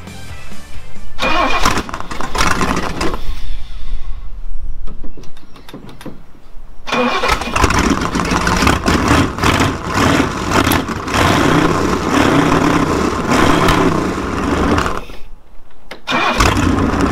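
A boat's engine cranks in bursts, catches, and runs loud and rough at idle with a sputtering, steady drone in a yard at Lake Havasu. There are brief drops between the cranking attempts, and no voices are heard.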